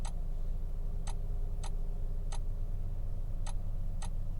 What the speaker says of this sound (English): if you want the buttons to make a silly little click sound